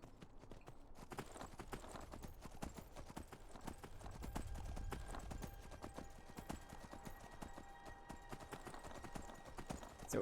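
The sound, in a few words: horse galloping hooves in video game Skyrim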